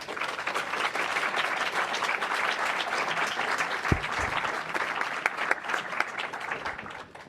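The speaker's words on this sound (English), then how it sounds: "I think we all should give the panel a big round of applause." Continuous round of applause from an audience after a panel discussion on food loss and waste, even and sustained for about seven seconds, with one brief low thump partway through.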